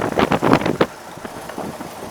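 A Ford Model A car engine runs with a rough, pulsing rumble that is stronger at first and then settles into a quieter, uneven idle.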